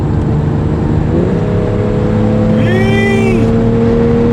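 A 2023 BMW X3 M40i engine pulls hard on an open back road, its whine climbing steadily in pitch under constant road and wind roar inside the cabin.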